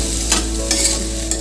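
Raw green peas frying in a hot pan, a steady close sizzle with a few brief stirring scrapes, no voices.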